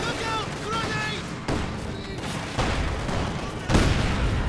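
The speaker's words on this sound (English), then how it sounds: "Then there's like machine guns and other fun things shooting in at them." Machine gun and cannon fire in the Company of Heroes 2 strategy game, with a StuG assault gun in the battle: dense bursts of gunfire and sharp booms beneath continuous commentary from a man.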